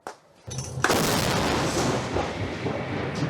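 A heavy artillery blast booms close by after a brief quiet moment, followed by a long rumbling roar that slowly fades out.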